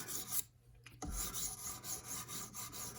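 An S110V PM2 steel knife blade is stroked across a sharpening stone in repeated close, gritty rasping passes, with a short pause near the start and no talking.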